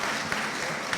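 Audience applause for Dr. Otabil at a leadership summit, a steady, fairly faint wash of clapping that fills the moment without a break.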